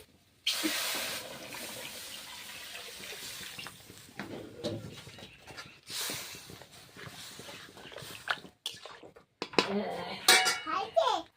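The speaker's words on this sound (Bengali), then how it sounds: "তরকারিটা আমার পছন্দ হয়ে গিয়েছে জল ঢেলে দিচ্ছি" Water is poured into a pot of simmering curry in a home kitchen, with splashes and pot and utensil clatter in bursts, while a voice and other talk come and go in the background.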